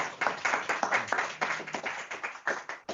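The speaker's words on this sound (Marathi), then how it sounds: "टाळ्या वाजवूया प्रभूला धन्यवाद" A church congregation claps in thanks to the Lord, with steady rhythmic hand claps of many people close by, in uneven bursts of about two to three claps per second.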